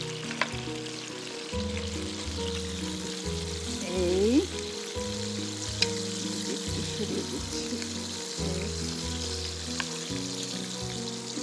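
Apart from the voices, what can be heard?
hilsa patturi in gourd leaves frying in oil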